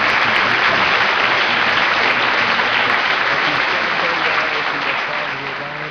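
Crowd at a radio pregame show delivers steady, continuous applause that stays even and fairly loud, fading slightly toward the end.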